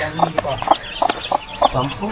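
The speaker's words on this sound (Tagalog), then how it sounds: "Yung aking manok pala na nangitlog, nagsisiw na." A hen clucks softly in short repeated bursts close by, with faint high peeps from her nine newly hatched chicks in between.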